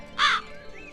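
Crow caws once in a Hindi cartoon, a single loud harsh call, short and alone against a quiet background.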